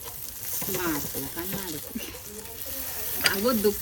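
Tandoori chicken sizzling over a wood fire as it is flipped, a steady hiss and crackle with a sharp clatter near the end, under people talking nearby.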